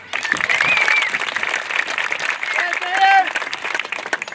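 Sustained applause from a graduation ceremony audience honouring school award recipients, a dense steady clapping wash lasting throughout with crowd murmur and brief voices mixed in.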